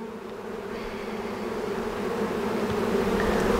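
A massive honey bee swarm being removed in hot weather in Weslaco, Texas, buzzing steadily and densely around loose honeycomb pieces, the drone close and gradually swelling louder, with no voices.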